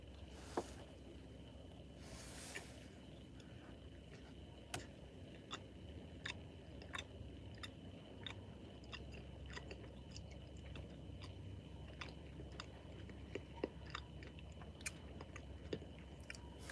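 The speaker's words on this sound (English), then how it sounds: "Now I'm eating nasty-ass molasses cookie." Someone chews a molasses cookie close up, with soft irregular crunches and sharp little clicks scattered through a steady low room hum, no talking.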